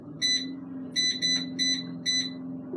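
Cosori air fryer giving five short, bright electronic beeps in an irregular pattern as it powers on, clear and close over a low steady hum, with no talking.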